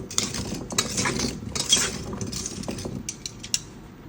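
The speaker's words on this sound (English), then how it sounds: "I'm gonna add a little bit of avocado oil to give it a toss" Sliced potatoes are tossed with avocado oil in a bowl, giving close clattering, scraping and light clinks of utensils against dishware in quick irregular bursts, with no talking.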